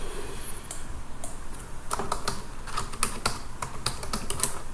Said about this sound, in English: Here I will type my name.